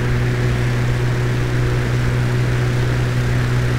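A Mooney propeller airplane's engine drones steadily in flight, a loud, constant hum with strong low tonal harmonics and broadband cabin noise, with no speech.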